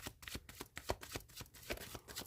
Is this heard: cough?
no